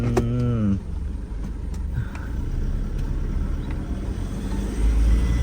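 A 2013 Toyota Fortuner 2.5 G automatic accelerates hard during a gear test, a low rumbling engine surge that builds and holds, with brief clunks and a rising tone at the start.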